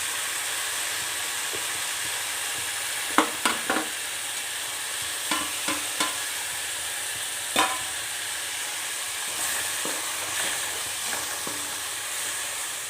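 Coriander, chilli and turmeric powders stirred in a pan, with scattered scraping clinks of a spoon over a low sizzle.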